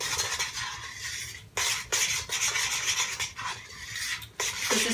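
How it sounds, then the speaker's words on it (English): Homemade macaroni and cheese being stirred to mix in freshly added cheese, a steady raspy scraping of a utensil against the pot with brief pauses, close and fairly loud, no talking. "So just stir until it's all mixed."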